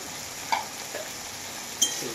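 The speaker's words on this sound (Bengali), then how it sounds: "ভালোভাবে এটাকে আমি ভাজবো। এইভাবে আমি খুব ভালোভাবে চালাবো।" Chili and turmeric sizzling in hot oil in a pan during Bengali mutton curry prep, with a couple of brief stirring scrapes over a quiet, steady frying hiss.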